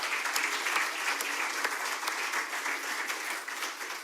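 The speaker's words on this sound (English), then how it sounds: "Please give a quick round of applause for the folks at Penrose for putting this all together." A conference audience at a tech summit breaks into steady applause, a dense wash of many hands clapping that holds fairly even throughout before tapering slightly at the end.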